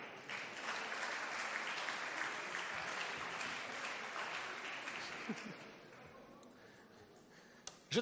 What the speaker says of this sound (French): On peut applaudir le premier quand même,